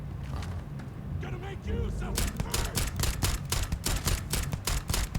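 Rapid gunfire from enemies in the video game Starfield, a dense run of sharp, loud shots that starts about two seconds in and keeps up in an irregular rhythm, with a rumble of game ambience underneath.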